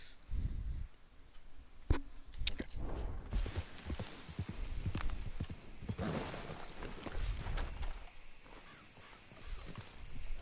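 Horse hooves clip-clop in the video game Red Dead, a soft uneven trot of thuds over a busy, rumbling game soundscape with one sharp crack early on and no speech.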